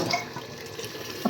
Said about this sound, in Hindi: फिर डाल देंगे सब पानी।